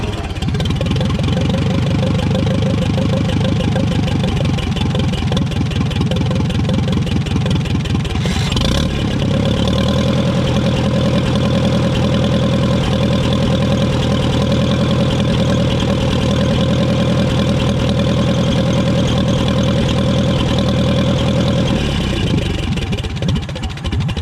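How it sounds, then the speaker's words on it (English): A Ferguson tractor engine that has sat for three months idles steadily after starting, loud and close, with a brief change in pitch partway through before it settles into an even rumble. No voices. "Ain't no way that started up that good."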